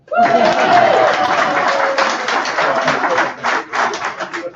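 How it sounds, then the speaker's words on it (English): Loud, close applause from an audience at a stage management awards ceremony, dense at first and then thinning into scattered individual claps toward the end. "Now you can applaud."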